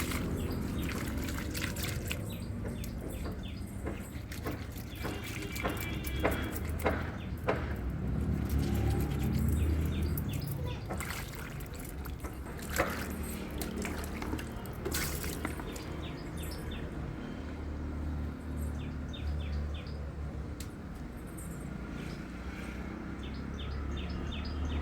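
Dried bangda fish is rinsed clean in water, with close splashing, trickling and pouring sounds that swell and ease over time, while birds call faintly in the background.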